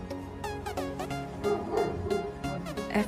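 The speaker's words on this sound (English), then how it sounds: "you can hear the dogs." Dogs bark in the background of a home setting, a run of short repeated yaps and barks in quick succession at moderate distance, with no clear speech over them.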